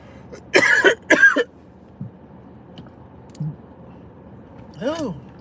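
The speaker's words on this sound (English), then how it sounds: "That was a hard cough" Two hard, harsh coughs in quick succession close to the mic, followed by quiet breathing and a small throat sound.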